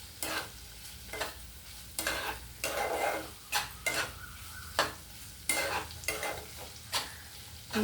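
A spoon stirs brinjal yogurt chutney in a vessel, with about a dozen scraping, sloshing strokes in an uneven rhythm, close and clear with no talking.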